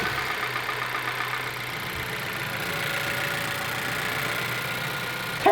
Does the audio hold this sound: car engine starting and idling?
yes